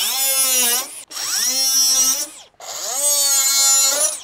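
A power tool cuts the ends off a plastic rain gutter in three loud, steady bursts, each with a whining pitch that sags under load and recovers, separated by brief pauses.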